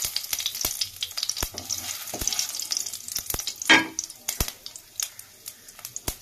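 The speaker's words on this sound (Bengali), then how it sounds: "তো আমি দুটো লঙ্কা আর দিয়ে দিলাম কিছুটা জিরে ফোড়ন" Green chilies and cumin seeds tempering in hot oil, a close, moderately loud crackling sizzle dotted with sharp pops and spits, with one brief louder burst partway through, and no speech.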